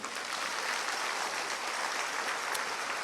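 Congregation applauding during a church sermon, a steady, even wash of clapping from a sizeable crowd, somewhat distant and soft, sustained without a break.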